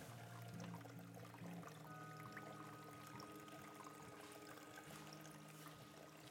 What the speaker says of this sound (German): Sollen wir noch mal ganz kurz ruhig sein, um das Plätschern zu hören?